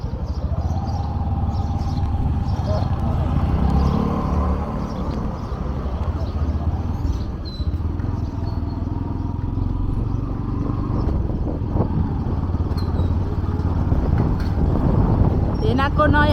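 A new motorbike carrying a brother-in-law and passengers rides along the road near Waling, Syangja, its engine a steady close drone mixed with wind rumble the whole way, with people talking over it.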